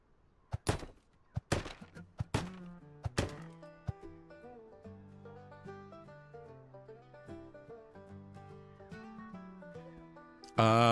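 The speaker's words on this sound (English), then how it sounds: "This hammer's about to break too." Hammer blows in a Cowboy Life Simulator game ring out as a quick run of sharp wooden knocks, followed by a steady melodic game music bed and a loud thump near the end.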